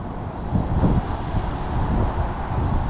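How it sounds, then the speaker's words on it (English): Strong gusty wind of about 45 mph sweeping across a fishing lake at Tunnel Barn Farm, a rough continuous buffeting roar with irregular surges against the microphone and no voices. "Now it's left to right, 45-mile-an-hour gusts."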